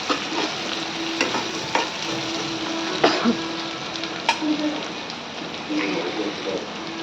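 Tomatoes with spices and salt frying in a pan, a steady sizzle with occasional stirring scrapes and clinks, close by and moderately loud throughout.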